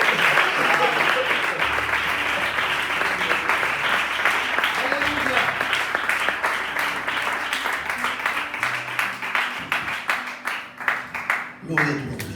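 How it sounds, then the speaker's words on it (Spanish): A church congregation bursts into sustained applause during a sermon, steady clapping continuing for over ten seconds over low musical tones and voices, growing more scattered near the end. "Si lo creen, den un aplauso"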